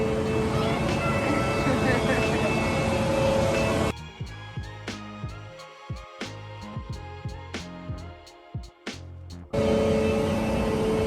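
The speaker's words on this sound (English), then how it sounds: "Yanni, look at the airplane." A steady, loud airplane engine roar fills the opening seconds, drops away while people talk, then surges back at the end.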